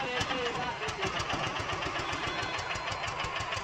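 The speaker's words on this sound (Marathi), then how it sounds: "बघ ते सायलेन्सर आणि ते ना अख्खं इंजिन हालत आहे टाका टाका." A vehicle engine idles with a rapid, even knocking pulse as the silencer and gearbox vibrate, heard close and steady while a person talks over it.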